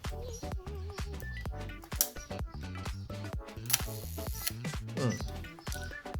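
A Rolleiflex 2.8 camera is cocked and its film advanced, making a close, quiet run of crisp mechanical clicks and ratcheting ticks in quick succession, with soft talking mixed in.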